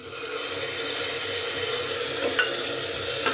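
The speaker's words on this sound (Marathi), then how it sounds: "टोमॅटोही आपल्याला छानपैकी फ्राय करून घ्यायचं आहे" Tomatoes frying in a pan with onion and pavta beans for pavta bhat: a steady, fairly loud broadband sizzle, close and continuous, with a faint clink of stirring near the end.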